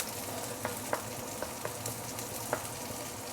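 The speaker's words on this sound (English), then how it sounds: "let's brown the shallot a little bit before I add in the dried shrimp" Shallots brown in hot oil for fried beehoon, giving a steady, dense sizzle and crackle with a few sharper pops and light stirring clicks, close and unbroken, with no talk.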